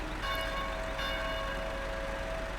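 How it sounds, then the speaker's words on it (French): Church bells ring in a Belgian countryside map of Farming Simulator 15, a sustained, steady bell tone with a couple of soft strikes, moderately loud over a constant low rumble. "Avec les cloches, ça le fait."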